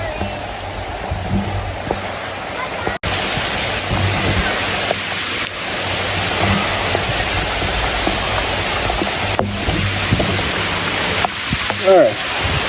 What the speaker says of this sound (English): definitely getting rain on.